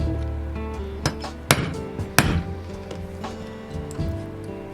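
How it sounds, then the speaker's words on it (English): A hole punch is struck with a hammer to make a hole for a brass rivet. A few sharp, ringing strikes land close by over a quiet background. "So I'm going to punch a hole here to accept one of those rivets"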